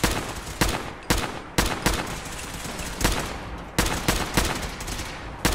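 Rapid gunfire in Fallout 4, loud repeated volleys of shots in quick bursts with brief gaps between them, dense and close with no talking.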